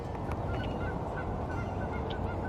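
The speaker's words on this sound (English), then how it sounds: "Canada geese just flew by." Canada geese honking as they fly past overhead, a rapid series of short nasal calls over a dense, rumbling outdoor background, fairly faint and distant throughout.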